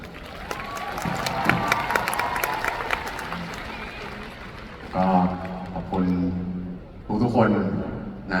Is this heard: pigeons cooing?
no